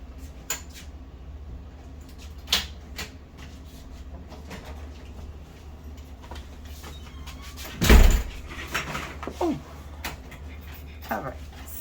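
A faulty door is worked by hand, with scattered knocks and clicks and one heavier bang-and-scrape midway, over a steady low hum in an indoor room.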